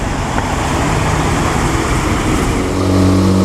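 A vintage Maserati drives past at the Concorso d'Eleganza Villa d'Este, a loud, steady engine roar that swells slightly toward the end as it passes close by.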